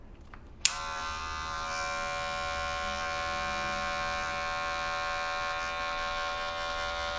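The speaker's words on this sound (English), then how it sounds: "I'm gonna fade this line out, and how I'm gonna do that is just by slowly closing the clipper" An electric hair clipper switches on with a sharp click and then hums in a steady, bright, close buzz while fading a textured crop haircut, running without a break to the end.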